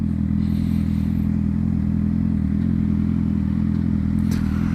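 A sport motorcycle engine drones steadily and close while commuting, a constant low rumble with faint mechanical clatter throughout and no talking.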